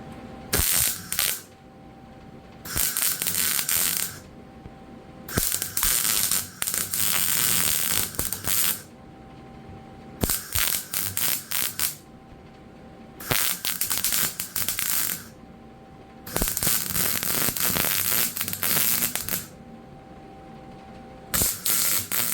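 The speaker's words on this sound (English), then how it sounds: "it's difficult when you're welding around an edge like this" Welding on a C3 Corvette restomod while adding resonators, working around an edge: bursts of crackling, buzzing arc sound lasting a few seconds each, separated by short pauses, close and fairly loud with no talk.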